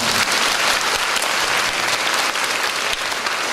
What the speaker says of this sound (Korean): 고맙다고 박수 한번 칠까요?